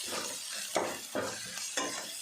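Ginger garlic paste with curry leaves and turmeric fries in a pan, a soft sizzle broken by about four rhythmic scraping stirs of a spoon, with no voices.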